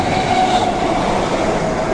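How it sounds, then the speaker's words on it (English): A Stansted Express train roars through Angel Road station, a loud, steady rush of wheels and rail noise with a faint high squeal. It stays close and constant throughout with no talking. "A Stanton Express has just gone through."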